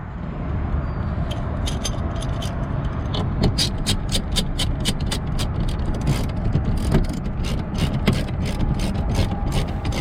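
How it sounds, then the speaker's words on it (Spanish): Screws are fastened on the front bumper lip of a 2020 Toyota Corolla, with a steady run of quick ratcheting clicks in repeated bursts over a constant low mechanical rumble. Nobody speaks. "Ahora vamos a colocar todos los tornillos para atrás."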